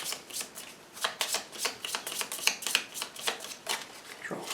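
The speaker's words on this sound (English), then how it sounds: "so let's shuffle them up." Deck of cards being shuffled during a Nemesis board game session, a quick, soft series of riffling flicks and taps in an uneven rhythm, close but faint, with no talk.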